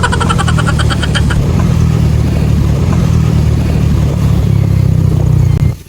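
Motorcycle engine fitted with a new JVT exhaust pipe, revving loud and steady close by with a deep continuous drone throughout, and a brief higher tonal whine in the opening second before cutting off at the end.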